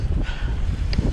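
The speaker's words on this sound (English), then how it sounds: "there's that wind." Wind gusts buffet the microphone during a mountain bike ride on a trail in Jonkershoek Nature Reserve, South Africa, producing a loud, low, rumbling roar that carries steadily throughout.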